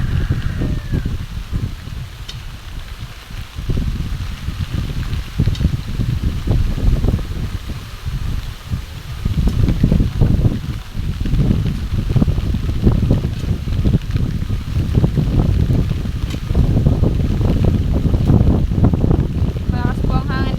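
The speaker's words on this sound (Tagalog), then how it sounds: "Malakas po ang hangin dito." Strong wind gusts across an outdoor vegetable garden where mustard greens are grown, a loud, roaring buffet that batters the microphone in surging waves throughout.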